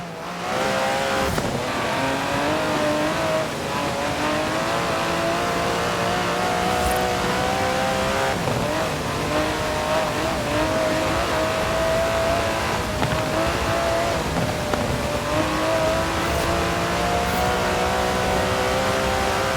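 An Aston Martin DB11 with a 5.2-litre twin-turbo V12 revs hard in Forza Horizon 4, a loud and steady engine roar whose pitch rises and falls through gear changes with no talk over it.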